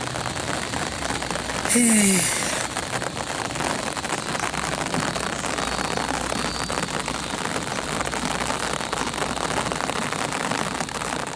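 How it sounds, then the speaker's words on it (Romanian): Rain beginning to fall in the Borneo jungle, a dense, steady hiss of drops on surfaces at even loudness, with a brief rising bird-like whistle early on. "A început să și plouă."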